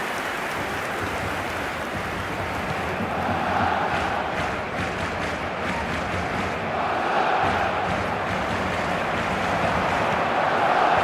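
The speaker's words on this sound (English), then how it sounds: "certainly gave this crowd something to really cheer about" A stadium crowd in an eFootball video game roars in a steady, dense wash of cheering and chanting that swells slightly at moments and fills the whole stretch without pause.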